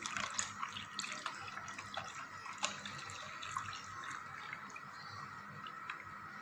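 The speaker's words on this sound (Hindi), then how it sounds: "अब मैं ऐड कर रही हूँ 1 गिलास जो है वो दूध।" Milk is poured from a glass into fruit juice, a faint, close trickling and splashing of liquid with small drips, heard alone at low volume.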